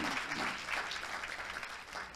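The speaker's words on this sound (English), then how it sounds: "Let's give each other a big round of applause." Applause from an audience at a Korea University international winter campus orientation, a steady wash of clapping at moderate distance throughout.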